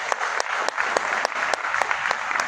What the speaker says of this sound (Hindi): इनके लिए एक बार जोरदार तालियां हो जाए